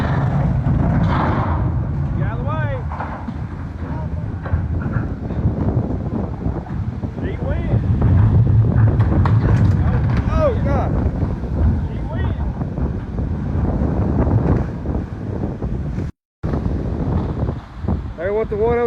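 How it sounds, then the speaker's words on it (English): Strong hurricane wind gusts roar and buffet the microphone in a constant, loud rush with brief lulls, while a voice talks over the noise and the sound cuts out for a moment near the end. "it is that prolonged exposure to those powerful wind gusts which could weaken structures"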